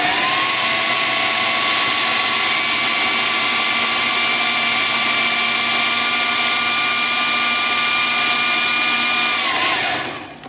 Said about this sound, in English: I'm going to pop the top on the food processor and just give this a really quick mix until it's all kind of evenly combined